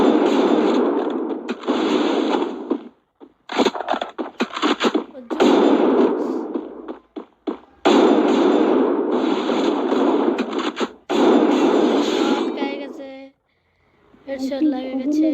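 Gunfire in a shooter video game, dense loud bursts of rapid automatic shots in long runs separated by brief gaps, close and harsh, with someone talking at the end.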